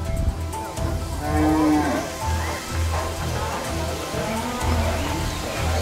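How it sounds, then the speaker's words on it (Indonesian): Madura cattle low repeatedly amid a noisy outdoor scene, with people talking and a steady wash of rain-like background noise. "sapi Madura."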